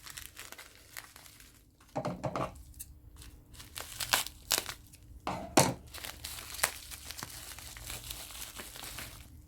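Crinkling and crumpling of packaging with sharp snips and tearing bursts, close up and intermittent, no talking.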